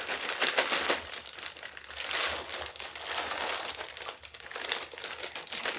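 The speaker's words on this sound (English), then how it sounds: "We're going to take the rest of our tater tots" A plastic bag of frozen tater tots crinkles as it is handled, from a 2-pound bag. The crackling is close, continuous and fairly quiet, with no talk.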